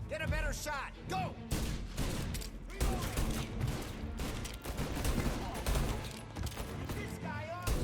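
Dense, continuous gunfire from a Mafia: Definitive Edition shootout, loud bursts and rapid shots overlapping with shouting voices throughout.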